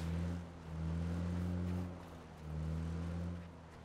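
A car engine in PUBG drones steadily, swelling and fading twice as the vehicle closes in, its low harmonic hum rising and falling with throttle, fairly near and without talk.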